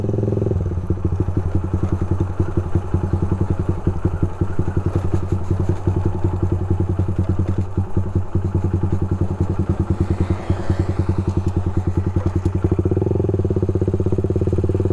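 A Honda Sonic 125 motorcycle ridden slowly through a village, its engine a loud, close, steady rapid thrum with a crackling exhaust, ticking over evenly the whole way, with no talk.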